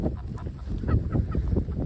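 Farm geese honk in a loose, overlapping cluster, a series of close, rough calls repeating steadily across the short stretch.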